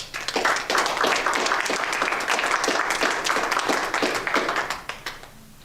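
An audience at a poetry reading applauds to welcome poet Jessica Cuello, steady dense clapping from a room of people that fades out toward the end.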